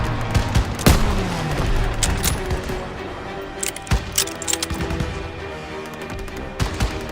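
Rapid bursts of gunfire from the World War II shooter game Call of Duty WW2, with sharp individual shots and a heavy blast amid continuous battle noise, while voices shout over the fighting.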